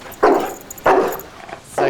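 A dog barks three times in a steady, evenly spaced rhythm at moderate loudness, with no talking over the barks.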